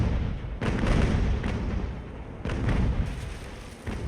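Naval cannons fire from a damaged sailing warship engaging a massive Spanish galleon fortress in the Ultimate Admiral: Age of Sail game: four heavy booms, each rolling into a rumbling tail over continuous battle noise.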